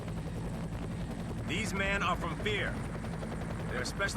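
A military helicopter from the game F.E.A.R. drones steadily with a low rotor rumble throughout, partly masked by game voices and brief electronic chirps over it.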